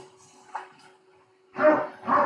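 A dog barks twice, loud and close, in two harsh bursts near the end after a quiet stretch with faint background noise.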